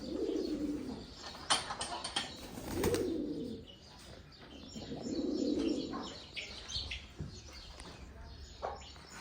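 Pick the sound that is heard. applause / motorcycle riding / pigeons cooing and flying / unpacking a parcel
pigeons cooing and flying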